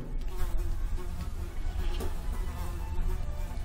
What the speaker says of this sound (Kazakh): Басыңа шыбын емелеп кеткен ба?